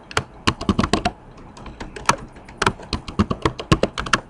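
A computer keyboard is tapped quickly to enter a password, giving a close, fairly quiet run of crisp clicks in two short bursts with a brief pause between them.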